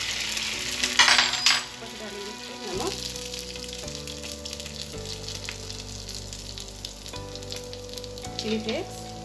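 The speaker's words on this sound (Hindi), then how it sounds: "इसके ऊपर हम एक अंडा डालेंगे" An egg sizzles as it hits a wrap in a pan over a lowered flame, a brief louder burst of frying followed by a softer, steady sizzle with light clinks of utensils and a faint voice.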